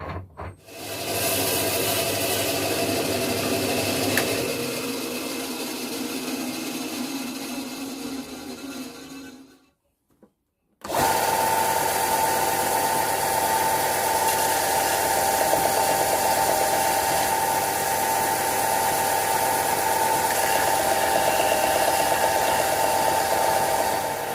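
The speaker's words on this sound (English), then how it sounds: "I'm going to take this out and then I'm going to bandsaw the ends off" A bandsaw trims the ends off a wooden turning blank for a small pig figure, a steady loud whine and rasp running for about ten seconds, a brief silence, then a second continuous cut.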